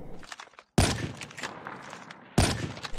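Gunshots fired through walls in a first-person shooter with an HG40 submachine gun, two sharp loud bursts that each ring out into a short decay, separated by quieter scuffing and movement sounds.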